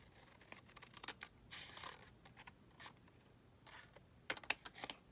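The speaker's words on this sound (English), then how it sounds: "Doing a snip." Scissors snipping fabric for a book cover lining, a series of faint, close crisp cuts and rustles, scattered irregularly and ending in a quick cluster of sharp snips.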